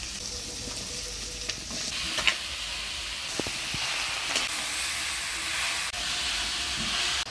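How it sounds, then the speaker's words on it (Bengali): Bottle gourd fries in a pan with a ground paste of coriander, cumin, ginger and chilli plus turmeric and salt, giving a loud continuous sizzle and hiss, with occasional scrapes and taps from stirring. "লাউ দিয়ে মশলার সাথে ভালো করে নাড়াচাড়া করে নিলাম"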